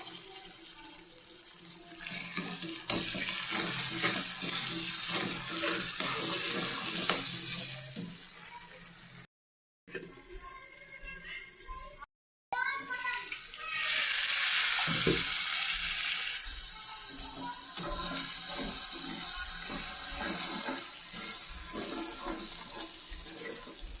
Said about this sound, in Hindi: हमारे टमाटर भी इसके अंदर भुन गए हैं।